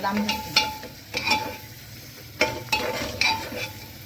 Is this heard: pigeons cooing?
no